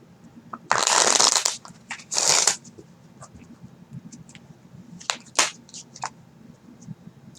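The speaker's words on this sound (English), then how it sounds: "Let's pull playing cards on this." Playing cards being shuffled and pulled from a deck for a card reading, with two long loud riffling bursts followed by several sharper, quieter snaps and flicks as individual cards are drawn and laid down, close by with no talking.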